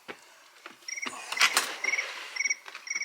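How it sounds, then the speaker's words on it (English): A cricket on a screen porch chirps in short repeated bursts of high, thin trills, close and clear, mixed with scattered clicks and knocks and no talking. "Some cricket wants me."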